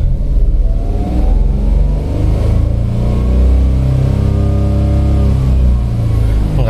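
A small LCGC city car's engine revs steadily up toward high RPM, the loud, close drone rising in pitch with clear harmonic sweeps and no talking over it.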